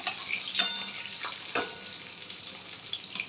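Garlic, green chili and curry leaves frying in hot oil, a bright crackling sizzle with sharp spattering pops, close and steady without speech.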